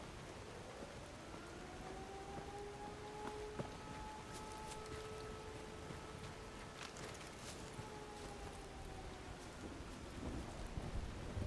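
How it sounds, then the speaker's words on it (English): Steady rain hisses throughout a Fallout 4 forest scene, with thunder rumbling low beneath it and a faint tonal whine drifting across; no one speaks. "Here comes the rain."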